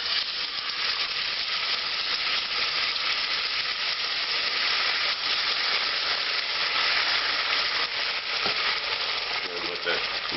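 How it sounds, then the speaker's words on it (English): Tomato sauce hitting smoking-hot peanut oil in a pot for Georgian lamb kharcho soup, a loud, dense, continuous frying hiss that stays steady throughout with faint crackles. "I'm going to add about half of the tomato sauce."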